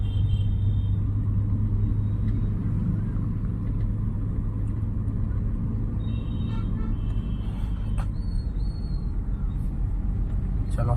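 Car engine rumbling steadily while driving in third gear as speed is gradually increased, a continuous low drone with road noise and a brief knock near the end, no clear speech.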